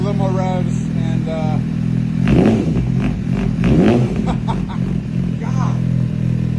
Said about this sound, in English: we'll give it a little more revs